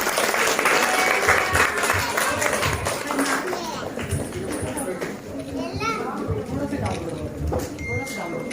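An audience claps loudly and continuously after a performance at a celebration, the applause dense and sustained, mixed with children's voices and chatter.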